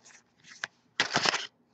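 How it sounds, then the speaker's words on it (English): Tarot cards being shuffled by hand: two short riffling bursts, then a louder, longer shuffle, close and clear, with no talk. "Shuffle them again."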